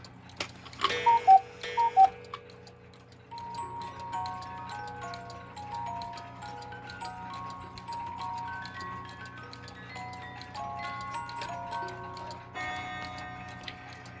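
A collectible musical clock sounds a couple of chime strikes, then plays a delicate music-box melody over continuous soft ticking, close and gentle throughout.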